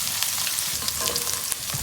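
Potatoes fry in a pan for meat noodles, giving a close, continuous crackling sizzle with scattered bright pops and occasional stirring scrapes and no voices.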